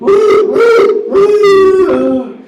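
A voice imitates a factory whistle: three long, wavering hoots that cut off between, the last one sliding lower and fading out.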